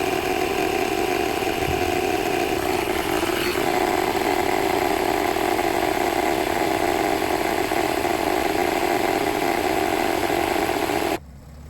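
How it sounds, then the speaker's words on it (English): A tyre inflator pump powered from a running car's electrical supply, used while inflating a tyre after a Slime puncture plug repair: a steady, loud, buzzing motor drone that holds constant for about eleven seconds, then cuts off abruptly. "I've started the car to increase the voltage to speed up the pump"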